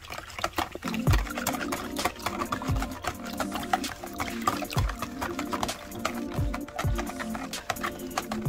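A spoon stirs a thick cream of mushroom sauce over baked chicken in a pan, giving repeated wet scraping and sloshing strokes in a steady rhythm, close up with no talking.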